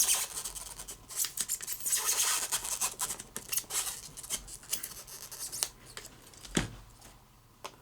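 Scissors snip through fly-tying material while tying a Bunyon Bug fly, a run of close, crisp cuts and rustling handling noises with no speech.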